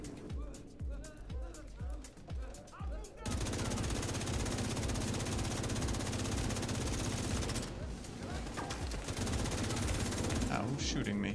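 Video-game gunfire: a brief patter of shots, then a dense, loud, sustained machine-gun barrage that runs almost nonstop to the end, with voices in the mix.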